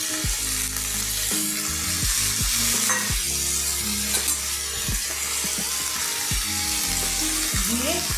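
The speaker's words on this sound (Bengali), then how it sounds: "এখন তাতে দিয়ে দেব পুঁই শাকটা দিয়ে দিলাম" Malabar spinach sizzles and fries loudly in a hot pan as it is stirred, a steady broadband crackle with intermittent scrapes and clatters of the utensil.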